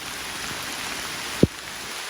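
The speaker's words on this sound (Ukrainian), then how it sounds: "Ну, правда, дощ досить-досить сильний." Heavy rain falls in a dense, tropical-looking forest, a steady, even hiss that fills the whole clip, broken once by a single dull thump close by.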